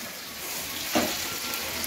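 Fish sizzles in a pan of hot oil in a home kitchen, a steady close crackling hiss with one brief louder spatter midway and no voices.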